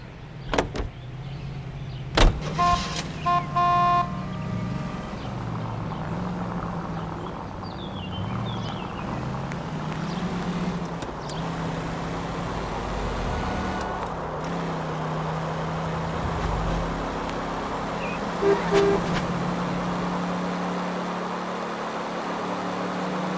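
A car pulls up in a PS4 video game, its engine humming low and steady, with a few sharp door or mechanism clunks near the start and another soft thump later.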